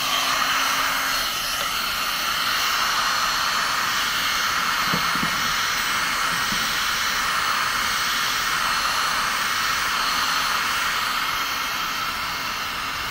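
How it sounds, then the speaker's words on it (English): A hot air tool blows steadily while skulls are being made, a constant broadband hiss running unbroken at even loudness for the whole stretch, with no talk over it. "the hot air again, it's not a dryer"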